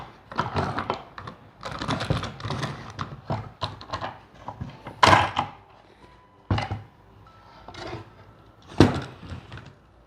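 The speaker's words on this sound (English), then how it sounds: "I'm gonna take it off the clamps right now" Wooden clamps being loosened and removed from a freshly glued wooden cutting board, a series of irregular knocks, clacks and scraping handling noises, close and fairly loud, with several sharper thunks spaced apart.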